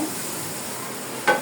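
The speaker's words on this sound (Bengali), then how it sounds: "আর একটু কষিয়ে নেব" Spice paste being sautéed in a pan for a fish curry, heard as a smooth, even sizzle. A single quick utensil tap sounds near the end.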